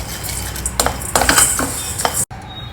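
Coriander seeds dry roasting in a pan over a medium flame, stirred with a utensil that scrapes and clinks against the metal in a quick irregular series, close and fairly loud with a soft sizzle beneath.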